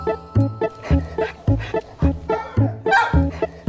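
Young puppies in a litter whine and yip in a steady run of short, high cries, about two per second, close and fairly loud, with no talk over them.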